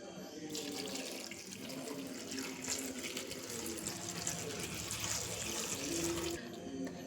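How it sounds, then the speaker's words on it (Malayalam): Water pours steadily and close into a pot of chopped jackfruit for several seconds, a continuous splashing stream that stops near the end. "നമ്മൾ ഇനി ഒരു ഗ്ലാസ് വെള്ളം ഒഴിക്കാൻ പോവുകയാണ്."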